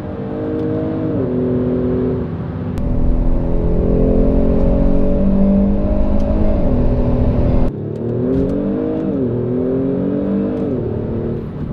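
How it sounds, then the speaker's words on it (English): Loud and near, a Kia Stinger GT2 sports sedan accelerates in sport mode, its engine rising in pitch through a series of gear changes with brief dips at each shift. "Driving the car in sports setting"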